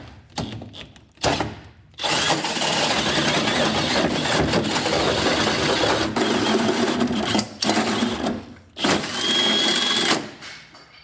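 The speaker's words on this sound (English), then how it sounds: "You can stand on it and keep the hole saw from kind of jumping around on you." A hole saw cuts through a pickup truck's metal bed for an underbed gooseneck hitch, giving a loud grinding whir in several long bursts broken by short pauses, close to the listener.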